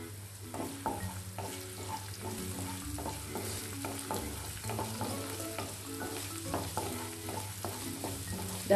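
Chopped ginger and onions are stirred as they fry in a pan for onion rice: a quiet bed of sizzling under a steady run of scraping, clattering spatula strokes.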